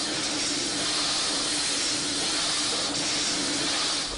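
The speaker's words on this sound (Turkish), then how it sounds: "Ancak buhar pistonunun sesi San Diego yakınlarındaki Vista California Antik Motorlar Müzesi'nin her yerini sarmaktadır" Antique piston steam engine at the Antique Gas and Steam Engine Museum in Vista, California, near San Diego: a loud, continuous hissing rush of steam with a faint steady mechanical hum beneath, unbroken throughout and without speech.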